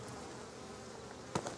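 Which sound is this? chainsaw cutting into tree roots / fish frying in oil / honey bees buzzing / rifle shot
honey bees buzzing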